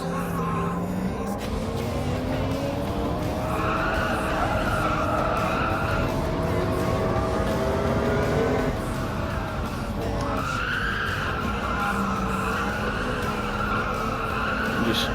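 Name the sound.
race car braking hard and skidding in Gran Turismo 7 video game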